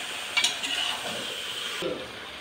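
Curry is stirred in a small wok (kadai), a spatula scraping and clinking against the metal over a soft background sizzle, a few sharper knocks early on, close and alone without talking.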